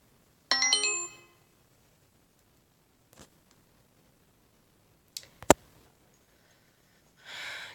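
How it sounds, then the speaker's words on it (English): A phone notification chime sounds once, short and fairly clear, followed by a few faint clicks and taps in an otherwise quiet room. "Notifications, man."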